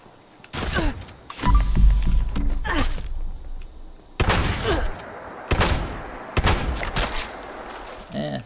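Combat rifle fire in the video game Fallout 76, several separate sharp bursts and single shots spaced across a few seconds with near silence between them, loud and close, alongside brief game dialogue.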